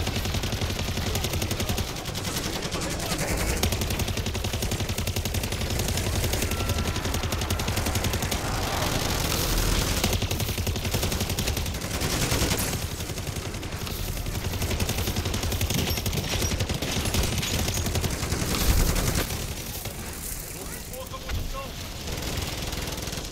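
A deployed automatic turret fires in MW Zombies, a dense, continuous rattle of rapid gunfire that runs loud and nearly unbroken, with voices talking over it.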